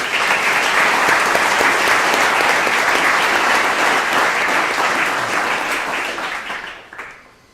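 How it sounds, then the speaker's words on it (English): A loud round of applause from a community audience at a car dealership's vehicle donation to a military family, dense and even before it tapers off over the last second or two. "So please give them a round of applause."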